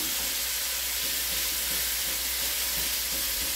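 Pork pieces browning in a pot in small batches for a one-pot stew, giving a steady, close sizzling and frying hiss that runs unbroken throughout.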